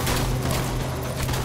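Shotgun fire in Death Stranding gives a dense, noisy burst of gunfire that fills the short moment loudly, with no talking over it.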